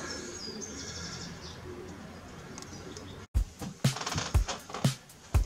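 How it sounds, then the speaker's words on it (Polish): Pigeons cooing softly amid a busy outdoor background, followed by louder nearby clatter and flapping-like knocks. "Dzisiaj przygotowałem grupkę ciekawych gołębi dla pana Szymona."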